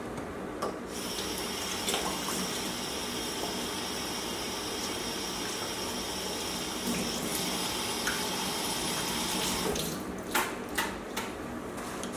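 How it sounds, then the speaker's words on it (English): Hands are washed under a running kitchen tap, a steady close stream of water hissing into the sink for most of the stretch, with brief splashes and clatter near the end and no talking. "Let's wash your hands."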